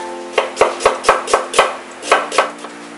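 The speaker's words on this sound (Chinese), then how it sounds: "我要一些洋葱丝。" A knife slices onions into thin strips on a cutting board for katsudon, a steady rhythm of about nine crisp, close chopping strokes with nothing else heard.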